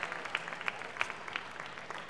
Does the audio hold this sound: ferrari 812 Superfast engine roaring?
no